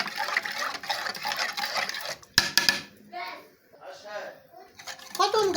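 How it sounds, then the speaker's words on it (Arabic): A spoon scrapes and clinks against a metal pot while sugar is stirred into a kunafa mixture, rhythmic metallic scraping with brief pauses, and someone talks over it. "ونقلب."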